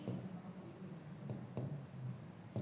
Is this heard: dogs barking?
no